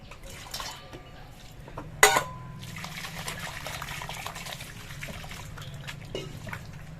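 Taro pieces being rinsed in a basin of water give a close trickle and sloshing with a sharp clatter near the start, followed by softer splashing and handling.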